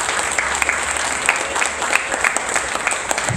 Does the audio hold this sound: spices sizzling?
no